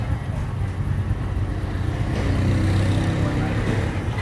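The engine of a plum-red Fu 1 runs nearby with a steady low rumble that swells a little midway, under faint background noise.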